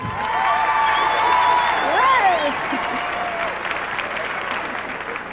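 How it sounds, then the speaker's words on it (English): A large crowd at a 1992 gospel Praise Gathering concert breaks into sustained, dense applause that fills the hall, with whoops and cheers rising above the clapping. "How many under 40? Clap, would you?"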